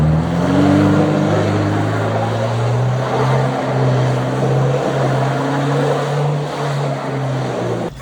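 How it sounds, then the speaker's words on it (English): A Suzuki Samurai with a swapped 1.6L 16V engine runs at high revs near the rev limiter, holding a loud, steady, droning engine tone close by for several seconds with no talking. "it's just almost hitting the rev limiter"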